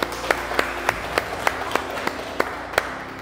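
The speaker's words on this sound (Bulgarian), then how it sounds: "аплодисменти за всички вас, които сте на време" Sparse audience applause in a conference hall at a business week event, a handful of separate, evenly spaced claps standing out over quiet room tone rather than a full ovation.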